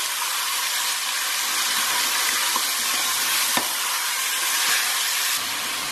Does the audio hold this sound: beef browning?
yes